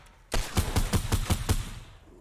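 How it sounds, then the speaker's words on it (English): SMG fire in a video game: after a sharp onset, a rapid burst of about seven close, loud shots in an even rhythm that ends in a decaying tail, with no talking. "SMG bullet in"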